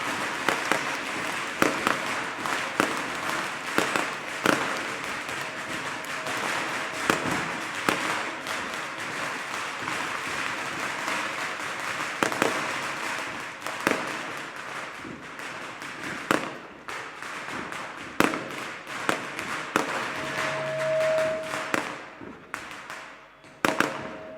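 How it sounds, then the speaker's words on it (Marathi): Rapid crackling bursts of firecrackers popping continuously at a political party workers' rally, dense and loud, with irregular sharp bangs throughout and no talk. "थोडेसे फटाके संपू दे"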